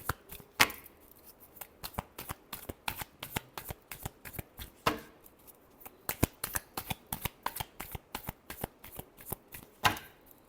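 Tarot cards are shuffled by hand in a quiet room, a long run of sharp riffling snaps and flutters in an uneven rhythm, close and crisp, with a few louder bursts and no talk.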